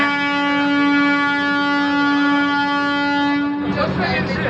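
A train sounds a long, loud, steady horn at Yelahanka Junction, near a standing Kacheguda–Yelahanka Express on the platform, then the blast cuts off and station noise and a voice take over.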